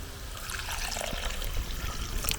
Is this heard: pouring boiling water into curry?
yes